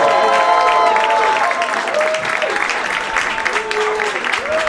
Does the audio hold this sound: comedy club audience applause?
yes